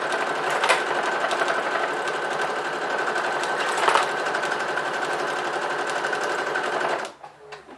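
A sewing machine stitches a fabric napkin holder, a steady fast mechanical chatter running continuously for about seven seconds before cutting off.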